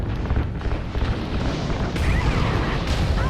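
Fuel lines explode during a space combat battle in Call of Duty Ghosts: a loud, dense, rumbling blast that rolls on for a few seconds with a fresh surge of debris partway through.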